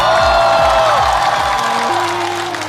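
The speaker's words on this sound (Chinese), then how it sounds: "掌声送给亮亮" A studio audience at a talk show applauds loudly and steadily, the clapping blended with music throughout.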